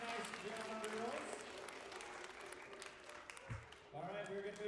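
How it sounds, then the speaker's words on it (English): Audience at a kindergarten-to-second-grade school assembly applauding, steady clapping with children's chatter, pausing briefly before resuming at the end. "we're going to give one more big round of applause for our Gators of the Award winners for K-2 SLC"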